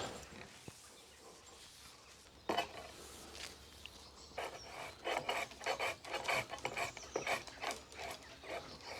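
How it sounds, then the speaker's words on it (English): Small tree branches being thinned out with a pruning tool beside a new greenhouse, a fairly quiet close rasping and cutting sound that starts after a few seconds and repeats in uneven strokes. "I'm going to start just thinning out some of these smaller branches first of all."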